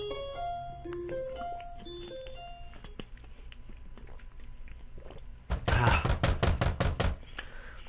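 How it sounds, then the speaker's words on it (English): Loud, rapid banging knocks on a door, a burst of about ten heavy thuds close by, following a soft melodic chime sequence in a visual novel game's quiet dorm scene. "I'm jolted awake by a thunderous banging sound coming from my door."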